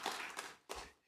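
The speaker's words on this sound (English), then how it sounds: "I'd like us to give Harleen a special applause" Brief burst of audience applause at a leadership conference, two short clusters of claps about a second long, fairly faint and distant.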